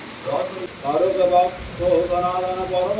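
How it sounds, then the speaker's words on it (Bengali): Heavy rain pours outside during a storm, a steady pattering wash under a person's talking. "প্রচন্ড পরিমাণে এখন বৃষ্টি হচ্ছে বাইরে"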